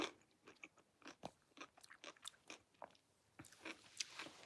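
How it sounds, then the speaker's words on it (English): Crunchy bites into a homemade garden pickle spear made with spices, close up: a series of irregular wet crunches and chewing, some sharp and loud, spread over several seconds with no talking. "I want to eat a pickle spear."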